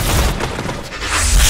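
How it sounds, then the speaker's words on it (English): A rocket blast in a shooter game, with two deep booming bursts, one at the start and a heavier one near the end, over constant low rumble and game noise. "Oh, that's a rocket."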